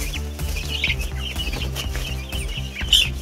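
Young roosters and hens cluck and squawk loudly while fighting in a farmyard, with rapid overlapping calls and a sharp crowing burst near the end, close and continuous.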